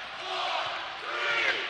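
A basketball arena crowd at a college game chanting together as the shot clock winds down, a loud rhythmic roar of voices filling the space.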